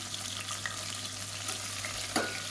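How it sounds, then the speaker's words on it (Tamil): Masala spices fry and sizzle in hot oil for biryani, with onions nearby, a steady close crackling hiss throughout and a faint stir or clink near the end, no voices. "மசாலா வந்து பொரிய ஆரம்பிக்குது"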